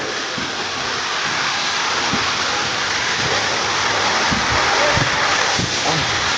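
Kudlu Theertha waterfall pours in a steady, loud broadband roar like heavy rain, constant throughout with a few low thuds and no clear talk over it.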